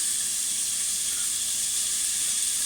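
Vegetables sizzle in a hot pan with a steady, loud, bright hiss and no talking over it.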